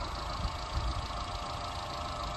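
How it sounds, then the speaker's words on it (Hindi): Engine of a 17-year-old Maruti WagonR idling, heard from outside the car: a steady, quiet, even hum with no talk over it. "अब देखो बाहर कैसी साउंड आ रही है इंजन की"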